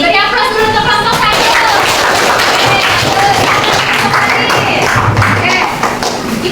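A classroom group applauds after a student group's presentation, steady dense clapping with thumps and taps at close range, voices talking over it for the whole stretch.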